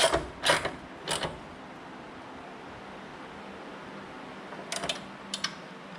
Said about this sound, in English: Now I torque the holes.